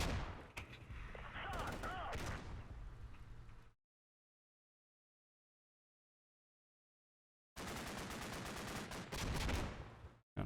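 .50 cal machine gun fire in the Combat Mission video game comes as dense, loud rattling bursts. The firing stops for several seconds of complete silence, then resumes just as hard.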